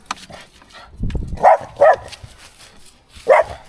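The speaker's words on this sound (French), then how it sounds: "Ouna, arrête d'aboyer." A dog barks three times in sharp, close bursts over a quiet outdoor background, while a bicycle-drawn caravan is being packed up to set off.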